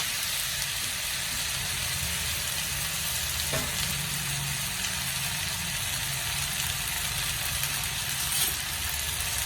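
Chopped potato, onion, green chilli and ginger sautéing in hot oil, giving a dense, continuous loud sizzle with no breaks. A faint tap sounds partway through.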